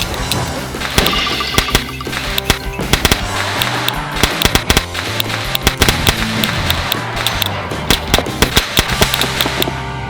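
A toy cap gun fires in a rapid, irregular string of sharp, loud cracks and pops, repeating steadily throughout with no pause, while a low tonal background sound carries underneath.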